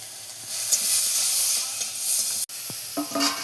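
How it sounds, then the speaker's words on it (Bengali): Spices sauté in hot oil while masala is cooked down in a home kitchen pan, making a steady, fairly loud frying hiss with a few stirring clatters near the end. "তারপরে যেখানে মশলা কষা হচ্ছে"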